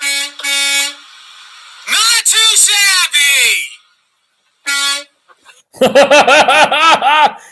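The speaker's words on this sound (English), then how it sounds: "Honking a horn of a semi." A semi truck's air horn honks in several loud, steady blasts separated by short pauses, with laughter and a voice talking in between.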